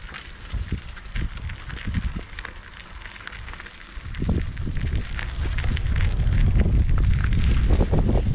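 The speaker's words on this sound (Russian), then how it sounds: "Сегодня ветреная немного." Wind gusts buffeting the microphone outdoors in a small Polish village, rumbling low and growing steadier and louder toward the end.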